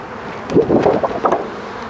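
A loose buzzing swarm of angry bees rises and swells close by as they fly out of an opened hive, with wind rumbling on the microphone and no voices.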